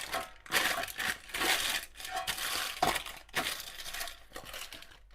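Parchment baking paper being crumpled by hand into a ball before lining a cake tin, a close, continuous crackling and crinkling with bursts of sharper rustle over about five seconds.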